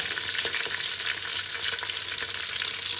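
Garlic frying in hot oil for Mangalore-style crab sukka, a dense, loud, continuous sizzle and crackle heard up close with no voices.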